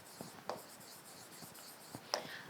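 A pen writing an answer on paper, with soft scratchy strokes and a few sharper taps spread over a couple of seconds, quiet and close.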